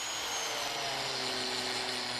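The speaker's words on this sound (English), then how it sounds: "This is an angle grinder with a power sculpting blade mounted in it." An angle grinder with a power sculpting blade carving wood for the leg of an Asian-style sitting bench: a continuous, steady high-pitched whine with a rough abrasive hiss, close and constant throughout.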